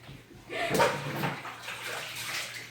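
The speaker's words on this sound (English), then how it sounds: "you just want to continue to rinse them off until after all the bubbles are on" Water poured from a cup splashes over a cat during a bath, a soft continuous pouring and splashing that rises after a brief pause and carries on at moderate level, close by.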